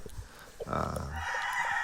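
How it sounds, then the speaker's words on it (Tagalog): A rooster crows loudly close by in one drawn-out call, with faint clucking from chickens around it, by the sea. "At marami din yung mga manok."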